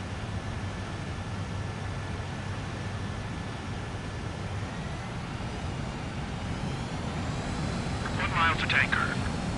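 Aircraft engine drone in a flight video game as a jet closes on a refueling tanker, a steady, dense roar that builds slightly toward the end, with radio voices speaking over it.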